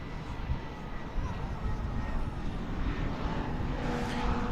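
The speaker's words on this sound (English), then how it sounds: "Takeoff, runway 18 left, Polaris 3916." Airliner on its takeoff roll from runway 18 left at DFW Airport, a steady broadband jet engine roar holding at moderate distance without a break.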